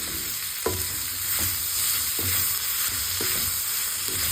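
Onions sauté in a hot pan for an onion chutney, a constant bright sizzle broken by regular spatula scrapes every half second or so, close up with no talking.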